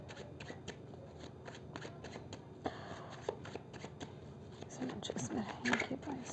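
Tarot cards are shuffled and drawn close to the mic as soft riffling and papery flicks. The sound comes in repeated light bursts under quiet, intermittent speech.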